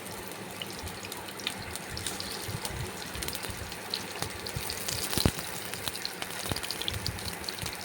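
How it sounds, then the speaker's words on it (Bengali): Onion and green chilli hit a hot wok for a greens dish, giving a soft, steady sizzle with scattered crackles and pops, fairly quiet and with no voices. "পেঁয়াজ আর কাঁচা লঙ্কা কড়াইয়ের মধ্যে এখন দিচ্ছি"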